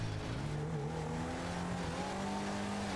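A continuous car sound in Grand Theft Auto V, a steady engine drone with a wavering higher tone like sustained tire squeal or skidding, moderately loud and without speech.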